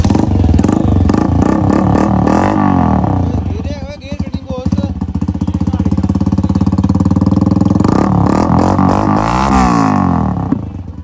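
A Honda motorcycle with its exhaust removed revs loudly and roughly, its engine rising and falling in several bursts close by, with someone talking over parts of it.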